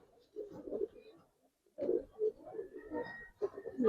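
Restless giribaz pigeons coo and stir in a few soft, low bursts, with a quiet gap in the middle before the murmuring resumes.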